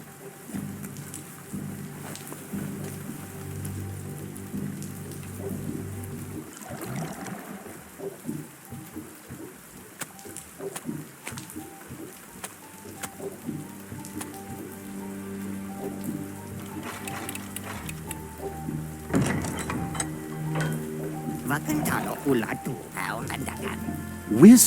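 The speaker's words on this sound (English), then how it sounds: "It's starting to rain." Rain patters steadily in the Biomutant video game world, a soft even hiss of drops on surfaces beneath game music and a narrator's voice, growing slightly louder toward the end.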